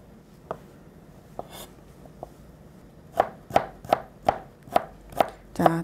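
A knife chops carrot on a cutting board, a few sparse cuts at first, then a steady run of seven or eight crisp, evenly spaced chops close by, with no talking.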